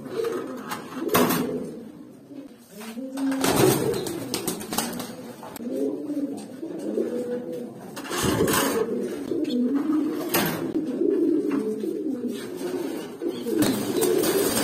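Jabra pigeons cooing close by in a loft, with repeated soft throaty coos overlapping in a steady rhythm, punctuated by a few louder wing flaps or knocks.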